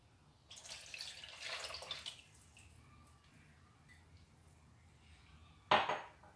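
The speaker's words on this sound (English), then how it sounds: "I'll add the milk." Milk is poured into a mixing bowl of wet ingredients for an eggless coconut jaggery cake, a soft liquid pour followed by a brief clink against the bowl, quiet and close, with no talking.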